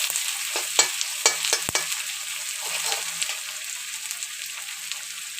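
Onions frying in a pan for duck curry cooked with pumpkin, a bright steady sizzle close by with several crisp stirring scrapes early on that thin out toward the end, without talk.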